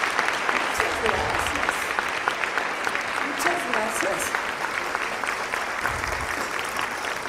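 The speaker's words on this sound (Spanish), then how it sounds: "Un aplauso, por favor." Applause from an audience at a university campus event, with steady, dense clapping that carries on at an even level from start to finish. No talk rises above the clapping.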